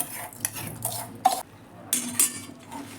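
Edible gum (gundar) being stirred in a pan while making gundar pak with jaggery, with scraping spoon strokes and occasional metal clinks, close and moderate, no talking.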